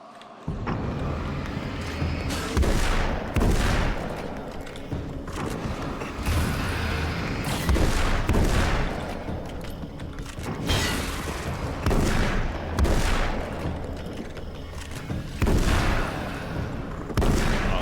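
Alan Wake's American Nightmare gameplay carries repeated loud booms from grenade explosions and bursts of gunfire at irregular intervals, over a dense, continuous background of game noise.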